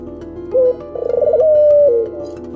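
A turtle dove coos up close, a short note followed by a longer, wavering, purring coo that holds steady before fading, clear and alone.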